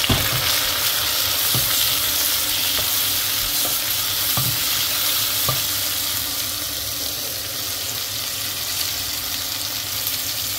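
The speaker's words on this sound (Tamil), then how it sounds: "வெங்காயம் வதங்கிட்டு இப்போ வெட்டி வச்ச தக்காளி பழம் போட்டாச்சு." Chopped tomatoes fry with onion and green chilli in a pan, giving a steady close sizzle broken by the periodic scrape and clink of stirring, easing slightly softer toward the end, with no voices.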